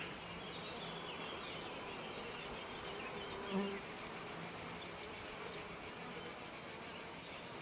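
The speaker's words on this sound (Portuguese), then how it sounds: "São os insetos e, sobretudo, as abelhas e mamangavas que polinizam as flores de girassol" Bees and bumblebees buzz steadily around sunflower blooms, a faint continuous insect drone with no voices, one slightly closer pass midway.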